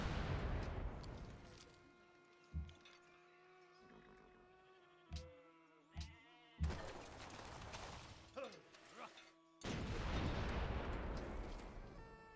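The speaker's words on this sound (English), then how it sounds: "I should just use these artilleries to hit the infantry so I can clear those out" Artillery units fire on infantry in a strategy video game: several sharp cannon-like bangs and blasts, separated by quieter gaps with animal and ambient game sounds, and a louder burst of fire near the end.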